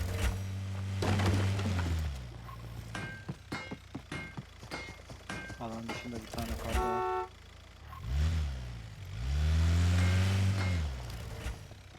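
Car engine in the battle royale game Super People, a steady low drone that rises and falls, fades briefly in the middle under clicks and game effects, then returns loud and close.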